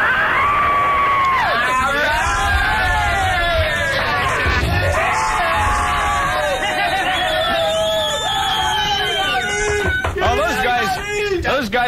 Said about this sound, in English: How many people want to yell in there?